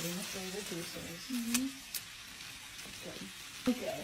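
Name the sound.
butter melting and sizzling in a hot pan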